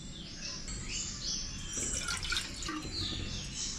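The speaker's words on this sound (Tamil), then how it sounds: "அந்த கப்புலேயே தண்ணி அளந்து ஊற்றிக்கலாம்" Water is poured from a cup into a bowl of raw rice flour, giving a faint, close trickling splash with small drips over a quiet room.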